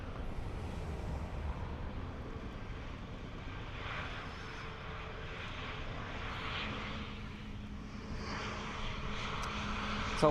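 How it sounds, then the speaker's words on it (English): Ryanair Boeing 737 MAX 8 jet at Dublin Airport, heard as a faint, distant engine rumble and hiss that swells gently in places and holds steady without talk. "So, max 8 of Ryanair."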